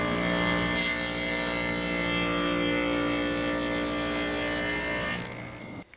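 A table saw makes a second pass cutting a groove into a wooden board for a Moxon vise bench-top accessory, a loud steady whine that runs unbroken for several seconds before spinning down at the end.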